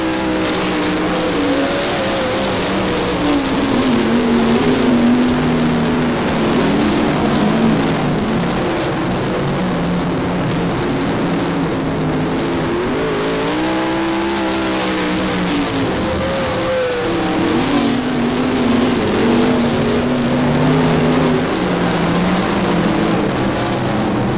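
Race cars roar down the back straightaway at Monarch Motor Speedway, engines droning and rising and falling in pitch as the field passes, loud and continuous with no talking.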